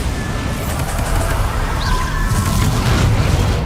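Bombarda spell detonating in Hogwarts Legacy, a loud rumbling blast with a rolling low-end roar and crackling debris throughout.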